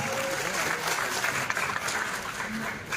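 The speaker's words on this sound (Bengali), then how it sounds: "জোরে হাততালি এই কারণে প্লিজ" Audience clapping loudly at the trailer launch of the Bengali film Boomerang, a continuous dense roar of applause filling the room, with faint voices mixed underneath.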